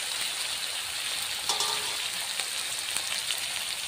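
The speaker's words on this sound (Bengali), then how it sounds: "এই আদা রসুন পেঁয়াজ কাঁচা লঙ্কা টমেটো তেলের সঙ্গে ভালো করে ভাজতে হবে।" Ginger, garlic and onion sizzle in hot oil in a pan, a steady hissing crackle with a few brief clinks of stirring, no voices present.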